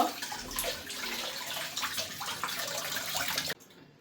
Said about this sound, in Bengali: এক এক করে এখন হচ্ছে সবগুলো মাছ ভালো করে একটু ধুয়ে নিব।